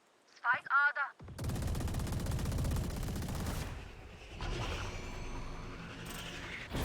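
Gunfire in the video game Valorant, a sustained burst of rapid automatic shots that follows a short spoken exclamation, then fades into rumbling game effects and further distant shots.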